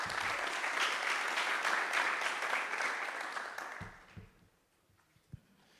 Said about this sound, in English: maybe a little applause for Ian to get started